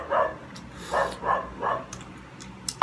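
A dog barks several times in a short series of sharp, mid-distance yelps, heard outdoors near people preparing fried tawilis fish and chicken tinola, with faint background noise between barks.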